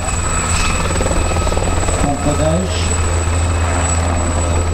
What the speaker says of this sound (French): Voilà, c'est parti, les hélicoptères